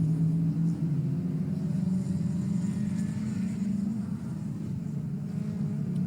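Race cars at the Oulton Park circuit during a CNC Heads Championship race, heard as a steady, loud low engine rumble that holds without a break throughout.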